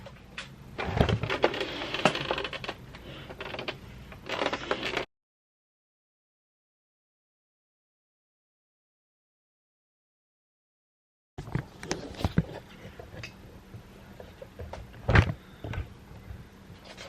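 A sewing machine runs a 1/8 inch seam around a reversible summer bucket hat, giving two steady whirring bursts of stitching separated by a long pause of silence.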